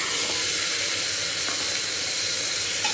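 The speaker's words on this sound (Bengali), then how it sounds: "যে আলুটা কেটে রেখেছিলাম দিয়ে দিয়েছি, একটু জাস্ট ভাজা হোক" Cut potatoes frying in oil with cumin and dried chilli produce a strong, even sizzle that holds steady and close throughout, alone without speech.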